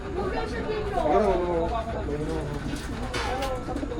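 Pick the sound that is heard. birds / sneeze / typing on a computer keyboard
birds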